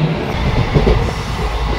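A passenger train rolling along the rails, a steady loud rumble with faint rhythmic wheel clatter heard from inside a carriage, continuous and without talk.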